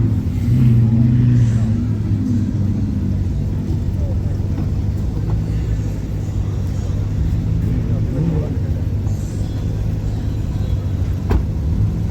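McLaren 600LT supercar squeezing past at a car show, a low engine rumble that stays steady under a continuous crowd murmur rather than a loud flyby.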